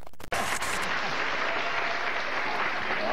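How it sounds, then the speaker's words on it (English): A studio audience at a television talk show applauds, a steady, dense wash of clapping that starts abruptly after a brief cut and continues loud without pause. "Sweet sound of applause."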